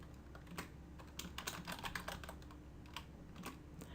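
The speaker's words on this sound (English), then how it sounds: "you could just press Tab on your keyboard" Quiet, close typing on a computer keyboard while filling in a Google account sign-up form, irregular clusters of light key clicks with brief pauses, no voices.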